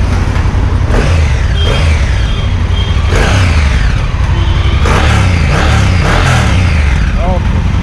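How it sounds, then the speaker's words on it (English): A Honda Africa Twin motorcycle engine idling and revving nearby with a deep, rumbling exhaust, rising in a few bursts amid loud outdoor noise and some talking. "let me give you an exhaust note."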